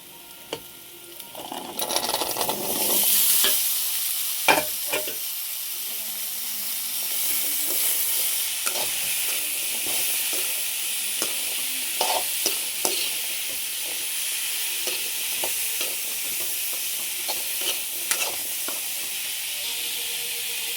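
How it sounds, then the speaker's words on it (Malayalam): Chickpeas tipped into a pan of softened onions, frying with a steady hiss and sizzle, broken by scattered scrapes and clicks of stirring, close and moderately loud. "ഉള്ളി വഴന്ന് വന്നിട്ടുണ്ട്. നമുക്ക് കടല അതിലോട്ട് ഇട്ട് കൊടുക്കാം."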